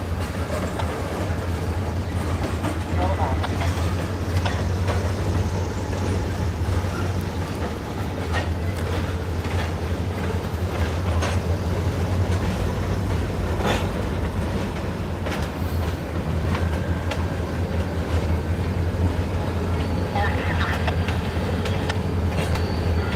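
Locomotives rumble at the DeButts classification rail yard, a steady low diesel drone with faint clanks and metallic squeaks scattered throughout, no talk.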